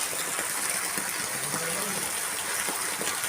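Heavy summer rainwater gushes and floods a house yard and veranda, a steady broadband rush of pouring water that stays even and close throughout.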